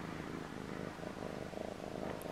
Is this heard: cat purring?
yes